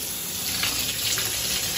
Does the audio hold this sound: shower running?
yes